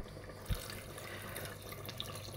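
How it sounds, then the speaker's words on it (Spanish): Water running into a pot of potato, meat and vegetable stew, a Málaga-style guiso, heard as a faint, steady tap-like flow with a soft knock near the start. "vamos a cubrir con agua."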